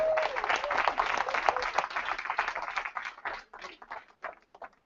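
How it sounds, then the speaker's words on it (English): Audience applause, a burst of many hands clapping at moderate volume that gradually thins into scattered claps and fades out. "You got to give her a round of applause for that one."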